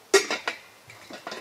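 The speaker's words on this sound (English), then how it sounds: "these are a set of stackable pans that can be used in it" Stackable metal pans for a solar cooker clink and clatter as they are handled, a few sharp metallic knocks followed by lighter taps, close up with no talking.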